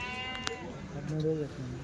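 A sheep bleats at a weekly sheep and goat market in Kadiri, a single nearby wavering cry heard over busy crowd noise and people talking.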